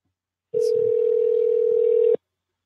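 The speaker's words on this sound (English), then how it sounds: "Can you guys hear that ringing okay?" A steady telephone-style ringing tone plays during a fitness live stream, a single continuous electronic note that starts abruptly, holds loud and unbroken for about a second and a half, then cuts off, with no voices over it.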